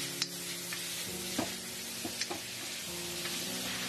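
Cauliflower with green and red chilies stir-fried in a hot wok, a constant crackling sizzle punctuated by sharp spatula clicks and taps as it is tossed, no talking.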